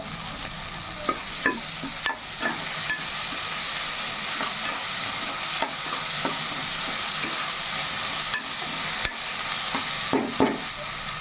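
Freshly ground masala with rock salt frying in a pan for chicken curry: a steady close sizzle running throughout, broken by scattered clinks and scrapes of a spoon stirring, with no talking.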